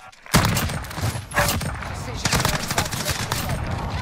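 Dense gunfire in the video game Modern Warfare, a rapid burst of overlapping shots and thuds that continues loudly throughout, with voices of players mixed in.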